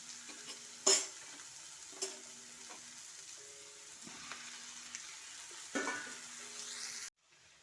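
Tomatoes and small onions sautéing in a pan, a soft steady sizzle broken by several sharp stirring clinks of a spoon against metal, close and alone, ending abruptly.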